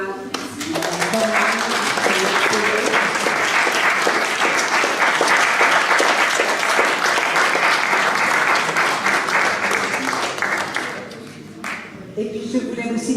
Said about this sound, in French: on va applaudir une nouvelle fois